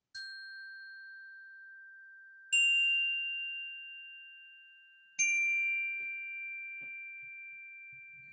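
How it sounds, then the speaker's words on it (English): Three strikes of a small bright chime ring out about two and a half seconds apart, each tone clear and sustained and slowly fading, heard alone in a quiet room. "see that nice little chime"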